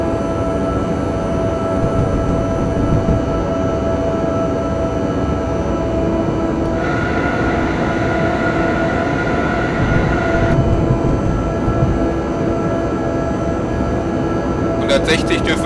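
A train in the Train Simulator game on the Berlin–Wittenberg route, a steady loud rumble of wheels and motor running throughout with a tonal hum, and a brief higher tone joining midway.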